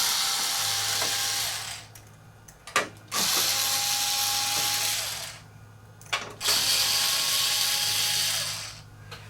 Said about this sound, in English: Shield is held in place by 3 more screws down here.